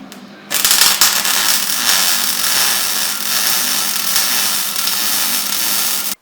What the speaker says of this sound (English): we have to chop a few inches off at each end, and then we'll weld on another bushing on the end here